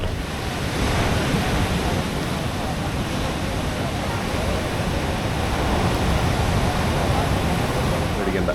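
Sea waves roll in at Snehatheeram beach, a loud continuous wash of surf mixed with wind buffeting the microphone.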